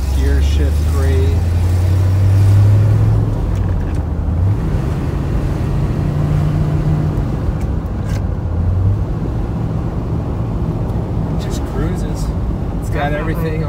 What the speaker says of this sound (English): I'm gonna take it down the street real quick, see how she shifts around.